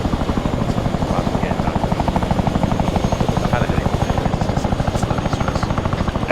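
A helicopter-like aircraft engine in the ARMA 3 video game thrums loud and close, its rotor pulsing in a rapid steady beat under a continuous engine drone.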